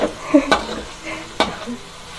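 Food being stir-fried with seasoning in a pan, with soft sizzling under two sharp scraping clanks of a spatula against the metal.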